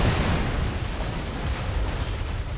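Continuous loud rumbling blast noise from the video game Goat Simulator, a dense broadband roar with heavy low end sustained for a few seconds without pause, with no talking.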